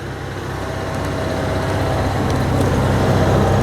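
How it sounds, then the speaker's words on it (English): Generators running close by on both sides of a parked 2000 Winnebago Adventurer 35U Class A motorhome, a steady low mechanical drone that holds level and slowly swells a little louder, with no talking over it. "I got generators running on each side of me here"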